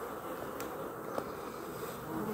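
Honeybees buzzing over frames in a hive during a full inspection, a dense continuous hum close by, steady and unbroken with a couple of faint clicks.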